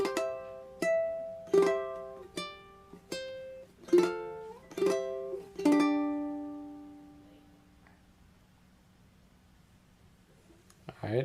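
A ukulele is plucked fingerstyle, playing a short run of bright single notes from the hymn Praise God From Whom All Blessings Flow at an even pace, the last one ringing out and fading into quiet.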